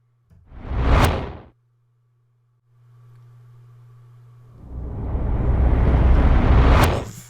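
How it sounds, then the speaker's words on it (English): A reversed sound effect: a swelling whoosh that cuts off abruptly, a pause with a faint hum, then a long rising noise building to a sudden stop. "they have this reverser on here that will play the sound backwards"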